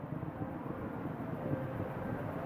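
Atlas V 551 rocket with RD-180 main engine burning after solid rocket booster separation, a steady loud low rumble with broadband roar sustained throughout and no voices.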